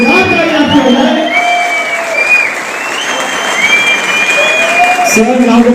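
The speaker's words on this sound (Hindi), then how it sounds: "डॉक्टर जगदीश सर के जोरदार तालियां आपको होना है" Loud, sustained audience applause fills a training hall during a neuroscience session, with voices talking over the clapping near the start and again near the end.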